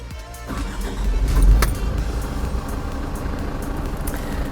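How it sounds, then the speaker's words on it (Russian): A JAC N56 light truck with a box van body starts up and settles into a steady, fairly quiet idle. The engine rumbles close by and swells briefly about a second and a half in, then holds an even, continuous hum. "Слушаем, как заводится и шепчет этот моторчик."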